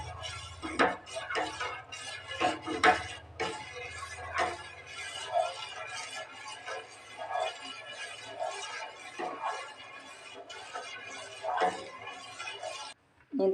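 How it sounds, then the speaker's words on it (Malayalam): A utensil stirs arrowroot payasam in a metal pan, giving repeated close scraping and clinking strokes in an uneven rhythm, with a low hum underneath and a sharp knock at the end. "ഇങ്ങനെ ഒരു സൈഡിലോട്ട് മാത്രമേ ഇളക്കിക്കൊണ്ടിരിക്കണം."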